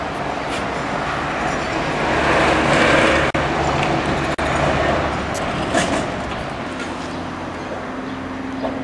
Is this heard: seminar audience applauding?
no